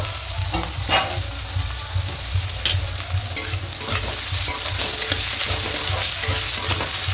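Bitter gourd and potato frying uncovered in oil, a steady close sizzle with occasional sharp clicks and scrapes of stirring, no voices.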